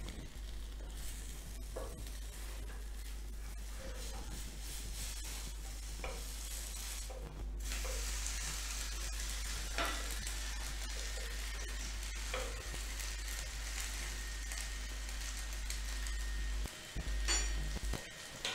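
Kappa ghavan, a Marathi pancake, sizzles in ghee on a pan with a soft continuous hiss, a steady low hum beneath it and occasional light taps and scrapes of a spatula.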